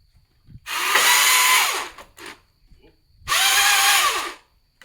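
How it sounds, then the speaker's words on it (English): A new Milwaukee power tool cutting dry pine pallet wood, two loud, close bursts of high whining cutting roughly a second each, separated by a short pause and a brief blip. "I'm just going to cut on this pallet a little bit just to test it out."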